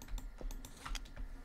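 Keys or buttons clicked repeatedly while playing a burger-restaurant computer game, a quick run of light, faint taps on a keyboard in an irregular rhythm.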